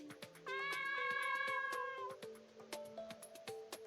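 Cat meows in the video game Heroes of Shaola, a long drawn-out meow followed by a couple of shorter ones over light game music and clicking interface sounds.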